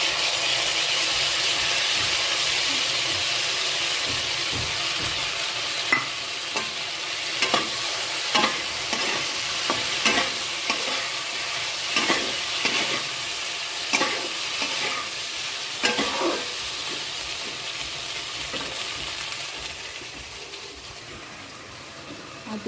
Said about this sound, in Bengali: এদিকে মশলাটা একটু ভালো ভাজা হতে হবে।